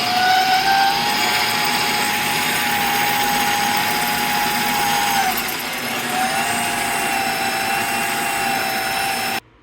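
A treadmill motor driving a homemade wheelbarrow runs with a loud, steady electric whine and hum, dipping briefly near the middle before picking up again, then cutting off at the end.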